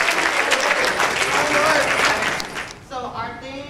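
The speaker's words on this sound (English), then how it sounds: "give our great God a hand clap of praise" Church congregation clapping hands in praise at a Youth Day service, a loud dense burst of applause that fades out near the end as a voice begins speaking.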